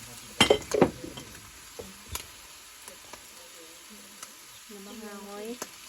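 Baby squid stir-fried in a pan for spicy basil squid: a few loud metallic scrapes and clanks of the utensil open the scene, followed by quieter stirring sounds and a faint sizzle, with a voice talking near the end.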